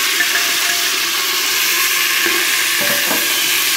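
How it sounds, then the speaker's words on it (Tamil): Mutton sautéing with onion and green chillies in a pan for mutton biryani, a loud, dense, continuous sizzle filling the clip, with faint stirring scrapes toward the end. "இந்த மட்டன் சேர்த்து கொஞ்சம் ஒரு ஒரு நிமிஷம் நல்லா வதக்கிட்டு"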